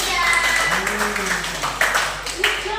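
Classroom clapping for a student during a microteaching lesson: a few scattered hand claps from a small group, partly buried under a teacher's voice that carries on throughout.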